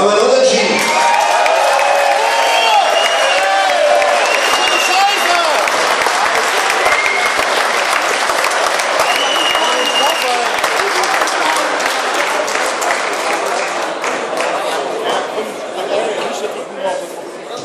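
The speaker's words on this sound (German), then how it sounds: "Hier, das ist sein Applaus." A crowd at Alexsportcentrum applauds loudly for MMA fighter Moritz Zitzmann after a draw, sustained clapping with scattered cheers and chatter that gradually thins toward the end.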